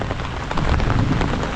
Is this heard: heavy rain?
yes